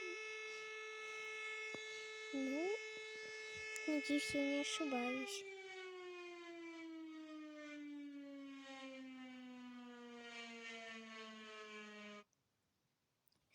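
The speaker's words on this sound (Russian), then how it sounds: "Это сирена, если я не ошибаюсь, ручная." A hand-cranked Siren Head siren holds a loud, harmonic-rich wail that dips in a few stuttering pulses, then slowly falls in pitch as it winds down before stopping abruptly, with a voice speaking briefly over it.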